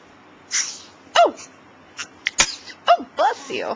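A small dog's sneezes and snorts, several short bursts at close range in a home, mixed with a woman's cooing, talkative voice.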